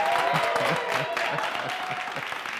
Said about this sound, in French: Merci de faire beaucoup d'applaudissements pour la grâce du Seigneur.